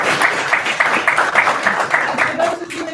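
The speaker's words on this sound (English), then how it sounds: "So guys, give yourselves a round of applause." Audience applause at the close of the first day of a 2019 GeoBIM workshop, a modest burst of clapping from a room of attendees with some voices mixed in.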